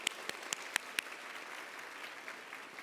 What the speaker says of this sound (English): she didn't give herself a round of applause